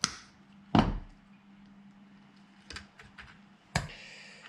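Wire cutters snip off the end of an electrical wire during a 40 Series Land Cruiser heater blower motor rebuild, giving a few sharp, close clicks spaced across a quiet workshop background with no talk.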